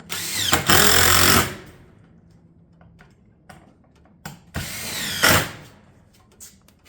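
A power tool drives fasteners into battens for a barrel vault tile roof, with two loud, close bursts of whirring rotation separated by quieter knocks and handling clicks.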